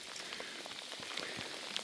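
Heavy rain pours outdoors in northern Saskatchewan during a fishing trip: a dense, even hiss of drops with scattered closer patters, continuous and alone.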